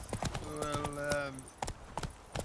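Hooves of the horse Roach clip-clop in The Witcher 3 video game, a quick steady galloping rhythm close by, with someone talking over part of it.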